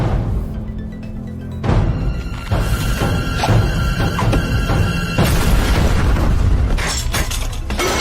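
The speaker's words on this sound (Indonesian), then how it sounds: "sehingga meriam itu pun meledak dan orang-orang yang di samping gerobak tersebut jadi korban" A cannon explodes in a film battle scene. A sudden heavy blast is followed by crashing, shattering debris and breaking glass that sound close and loud, with rumbling impacts continuing throughout and no speech.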